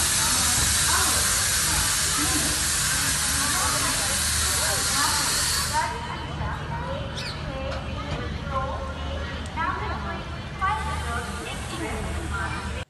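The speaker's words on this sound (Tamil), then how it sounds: "இது தென்னக ரயில்வே மூலமாக இயங்கக்கூடிய ஒரு சூப்பரான சூப்பர் ஃபாஸ்ட் எக்ஸ்பிரஸ் ட்ரெயின்." Southern Railway superfast express train, the Tambaram–Sengottai service, with a loud steady hiss and rumble that drops away midway, followed by quieter rail ambience, bird calls and a person talking over it.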